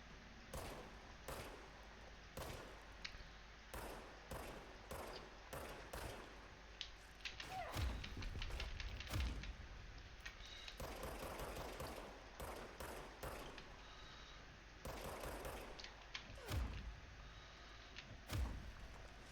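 Automatic gunfire from the video game Control, heard as many short, sharp bursts spread across the clip with heavy thumps in between, at moderate loudness and with no talking over it.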